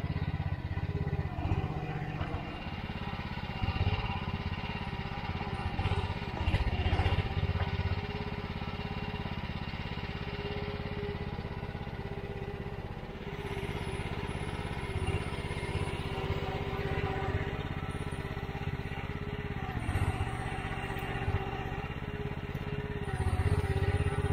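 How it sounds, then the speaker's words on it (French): A mini excavator's diesel engine runs steadily nearby, a constant rumbling drone with occasional clatter and slight swells in power, no talking. "C'est fou la puissance de ce moteur quand même."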